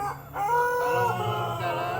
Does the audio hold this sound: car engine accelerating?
no